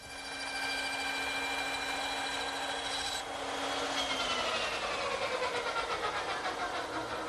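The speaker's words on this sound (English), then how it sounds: "I think this little dovetailing saw is more accurate" Small hand dovetail saw cutting tenon shoulders in wood, a close, steady rasping back-and-forth stroke that shifts in pitch partway through as the cut deepens, with no talking.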